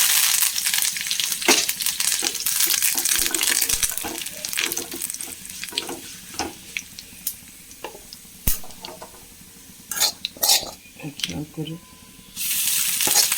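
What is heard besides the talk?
dried red chillies and curry leaves sizzling in coconut oil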